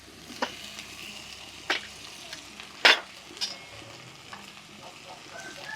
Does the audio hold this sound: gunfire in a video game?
no